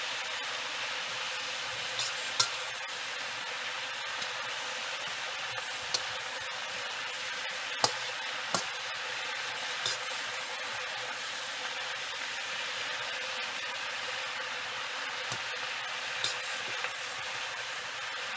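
Cabbage frying in well-seasoned olive oil as it is stirred, giving a steady close sizzle with scattered ticks and scrapes from the utensil, and no talking.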